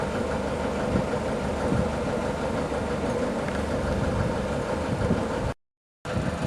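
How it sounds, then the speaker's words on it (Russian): A TDME-490 marine diesel idles inside a motorboat with the deck hatches and the bridge door open. The engine gives a steady, loud, continuous rumble at close range that runs without a break and then cuts out for a moment near the end. "Общий вид катера и шум двигателя при открытых паёлах и открытой двери на мостике."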